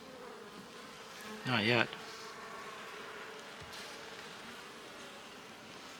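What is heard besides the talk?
honeybees buzzing in a winter beehive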